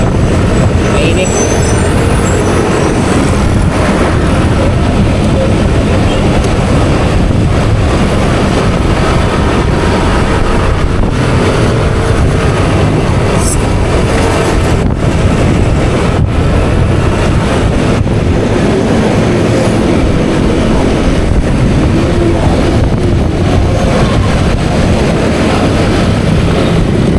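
Strong wind gusting across a hot outdoor spot in Paimos, Bacoor, a steady loud broadband roar buffeting the mic for the whole stretch, with a faint hint of distant traffic beneath.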